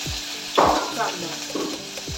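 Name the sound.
onion frying in oil with cumin, curry leaves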